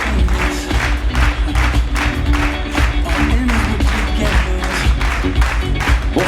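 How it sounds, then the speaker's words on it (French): Audience applause at an evening celebration honoring a cultural association, a steady dense clapping from a large crowd that holds at an even, loud level throughout. "Didier Dinard, sur vos applaudissements, s'il vous plaît."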